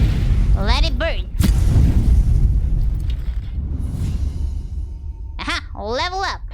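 A fire attack burning in a video game, a rumbling, crackling burst of flame effects that swells and roars under a voice talking at the start and again near the end.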